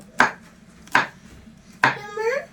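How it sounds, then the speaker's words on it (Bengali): A knife chops almonds on a board in three sharp, evenly spaced strikes, close and clear, with a faint clatter trailing after the last cut. "আর এবার আমন্ডগুলোকে আমি একটু ছোট ছোট করে কেটে নেব"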